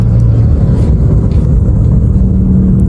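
A Daihatsu Terios R with an automatic gearbox accelerates hard, its loud, close engine holding a steady low drone throughout with no voices.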